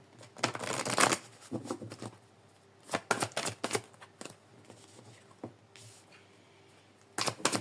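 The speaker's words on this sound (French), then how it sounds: "on va prendre quelques cartes de l'oracle de l'intuition et de l'action" Oracle cards being shuffled by hand: bursts of riffling and flicking in clusters with short pauses, close and crisp, no talking.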